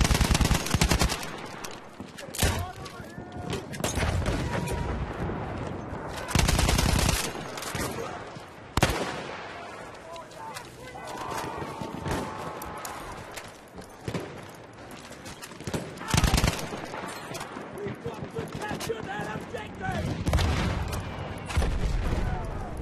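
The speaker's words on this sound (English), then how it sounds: "Machine gun over there!" Machine gun fire in the Battlefield 1 video game, with loud repeated automatic bursts and booms across the scene and occasional shouted voices under the gunfire.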